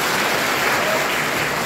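A crowd at a college International Mother Language Day event applauds, producing a dense, even wash of clapping that holds steady and loud for the whole moment.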